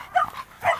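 A bulldog gives two short, close barks, each a quick yelping burst with a brief gap between them.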